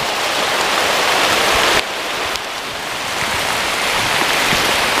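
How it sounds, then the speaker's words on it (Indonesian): Heavy rain pours steadily while travelling near a tree house, a dense continuous hiss with a brief dip partway through, loud and close with no talking. "kita di perjalanan hujan-hujan sahabat ya"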